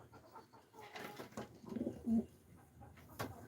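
Soft racing pigeon coos among a busy mix of bird calls and faint background noise, with a brief clearer coo near the middle.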